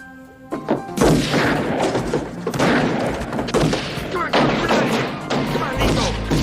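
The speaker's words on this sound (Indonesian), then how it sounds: "tiba-tiba Nico datang dan aksi baku tembak pun tak terhindarkan" Loud, dense gunfire from a shootout scene in the action film Above the Law, booming shots and thuds crowding together continuously with a heavy low rumble and no clear gaps.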